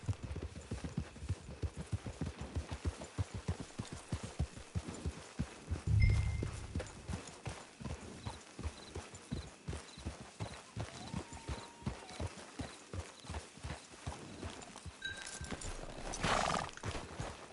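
Horse hooves clip-clop in a steady walking rhythm in the video game Red Dead Redemption II Online, with a horse snorting and whinnying partway through and again near the end.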